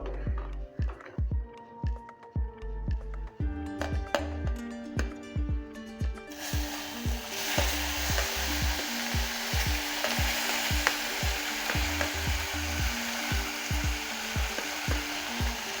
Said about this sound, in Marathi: लसूण लाल झालेला आहे आता याच्यामध्ये आपण घालणार आहोत टॉमॅटो